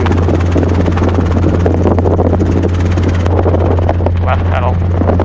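A Robinson R22 helicopter in flight during a training lesson, its loud, steady rotor and engine drone filling the cabin, with a muffled voice briefly heard near the end.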